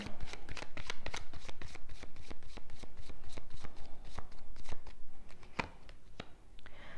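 Tarot cards being shuffled and drawn by hand, a close, steady run of rapid papery riffles and slaps that thins out near the end.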